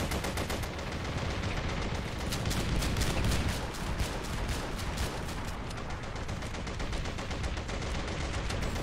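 Rapid, steady gunfire from a shotgun in a sandbox shooter video game, loud and close, with shots repeating in quick bursts for the whole stretch and no talking over it.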